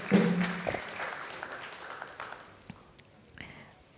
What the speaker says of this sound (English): We can give them a round of applause, please.